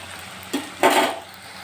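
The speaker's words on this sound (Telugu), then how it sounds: "మొత్తం అయితే ఫ్రై అవ్వాలండి కొద్దిసేపు అలానే ఉంచాలి" Vermicelli (semiya) kara poosa frying in hot oil: a brief soft splash, then a louder burst of crackling sizzle that settles back into a low steady fry.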